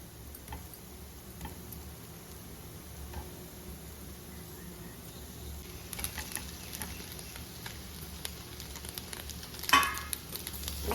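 Rice-flour masala kozhukatta fry in a pan with a close, quiet crackling sizzle of rapid ticking pops that grows busier and louder midway, with a sharper burst near the end.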